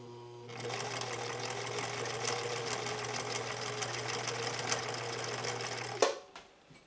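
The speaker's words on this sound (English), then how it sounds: "I'm going to do this last stitch on cam A, and then we're going to pivot over to Grandma Bev's machine" A sewing machine, the late grandmother's own, stitches steadily at full speed for about five seconds after a brief hum, then stops with a clunk; the motor whir is loud and continuous, with no talk over it.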